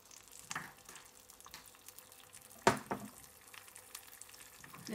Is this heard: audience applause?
no